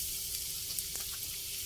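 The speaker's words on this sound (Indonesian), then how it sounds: "Tumis bawang putihnya hingga tercium bau harum." Garlic sautés in hot cooking oil in a wok, giving a quiet, steady sizzle with a couple of faint stirring sounds and no talk.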